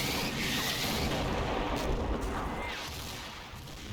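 Continuous artillery barrage from the WWII strategy game Combat Mission, Operation Epsom battle, a dense rumbling wash of distant booms and blasts rolling on steadily without pause.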